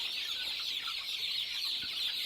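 Broiler chickens clucking steadily at a moderate distance, with a constant airy hiss of farmyard background throughout.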